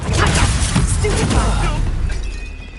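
In Hogwarts Legacy, a Confringo fire blast spell erupts in a loud, crackling burst that roars briefly and then fades. It carries a shattering, fiery texture.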